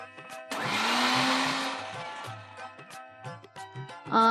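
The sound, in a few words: mixer grinder grinding millet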